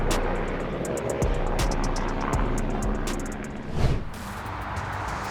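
An AS-350B3 Ecureuil helicopter fighting wildfires in Sicily gives off a steady, loud rotor and turbine drone with a rapid rhythmic chopping, holding close and strong and rising briefly in a swell before settling.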